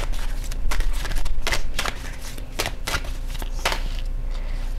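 Tarot cards being shuffled by hand, a continuous close riffling and sliding with repeated sharp slaps as the deck is cut, steady and loud throughout with no speech.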